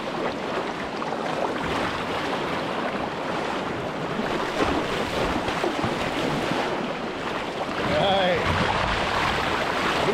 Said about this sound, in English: I think at these flows, there should be some little standing waves up here around the corner.